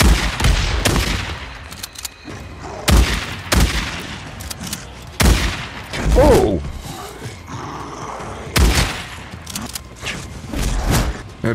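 A pipe bomb goes off in the zombie survival game Days Gone, with loud booming blasts and gunfire-like bursts repeating through the scene, mixed with a voice and growls.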